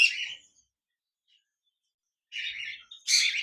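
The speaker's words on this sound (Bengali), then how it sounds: "রেড আই কোকাটেল পাখি রয়েছে।" A single male lutino red-eye cockatiel in a breeding-farm cage gives three short, close chirps: one at the start, then two in quick succession after a pause.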